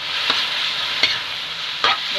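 Pork frying and being stirred in a pan, a loud steady sizzle running throughout, with three scraping stirs of a utensil at regular intervals, close up and with no voice over it.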